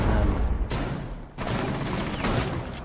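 Heavy, loud gunfire in a shooter video game, dense bursts filling the moment with a brief lull midway before the shooting resumes.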